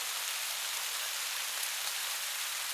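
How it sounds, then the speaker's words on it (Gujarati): Steady rain falling outdoors during a monsoon shower, an even wash of hiss with no breaks, fairly close and continuous throughout. "વરસાદ વધી ગયો છે."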